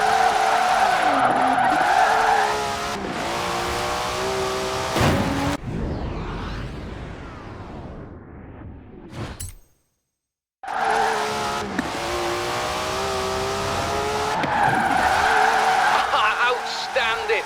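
Car tyres skidding and screeching through drifts in Forza Horizon 4, loud under a revving engine, with a sweeping squeal mid-way, a brief total dropout, then more sustained engine and tyre noise.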